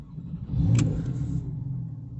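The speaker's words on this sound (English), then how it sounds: "Double flash, start your vehicle." A Porsche 911 S engine cranks and catches after an immobiliser pin entry, then settles into a steady low idle rumble, close and moderately loud, with no voices.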